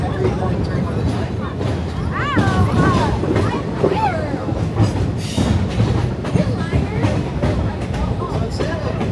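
Rail cars of the Roaring Camp Railroads train in Santa Cruz rumble and clack along the track with squealing wheels, a loud steady roll with voices mixed in.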